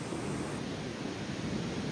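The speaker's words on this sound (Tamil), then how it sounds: "அப்படியே இந்த கடலை பாருங்கள் கொந்தளிக்குது" A rough sea surges near seaside houses where the water has pushed inland under a low-pressure system, a continuous broad roar of surf and wind buffeting the microphone with no talking.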